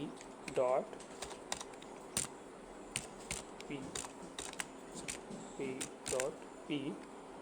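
Keys clacking on a computer keyboard while someone types in MS Word, scattered nearby taps and short bursts of keystrokes at a quiet level, with someone speaking Hindi over them.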